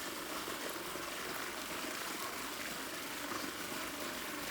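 Water pours steadily out of a borewell pipe, a continuous close rushing hiss that holds an even level for the whole stretch, with no voices.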